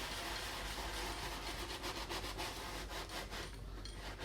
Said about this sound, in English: scrub it with circular motion